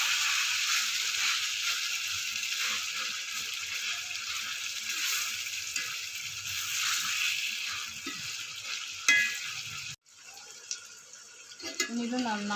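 Chicken pieces frying in oil in a pan, a continuous close bright sizzle that cuts off abruptly near the end, followed by quieter clattering.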